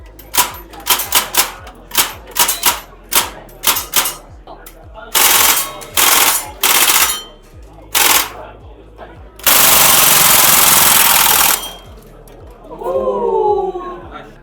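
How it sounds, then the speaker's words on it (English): VFC airsoft guns, including a PPSh, go off during a crowded test fire session, with rapid bursts of automatic clattering fire and longer sustained volleys, loud and close, while people talk in the background. "Right now, people are doing the test fire session"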